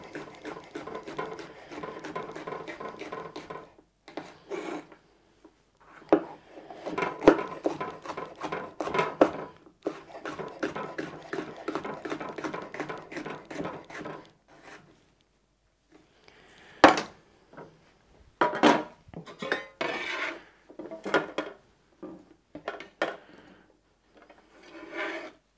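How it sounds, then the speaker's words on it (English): Peppers being sliced into half rings on a cutting board, bursts of knife chopping and scraping in uneven runs with quiet pauses between, close up. "So I'll just cut them into half rings."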